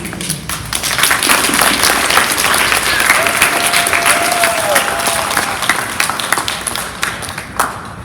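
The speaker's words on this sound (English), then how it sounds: "Can we give everybody a big round of applause?" An audience at a summer camp closing reading in a school claps in a dense, sustained round, and a voice is briefly heard partway through.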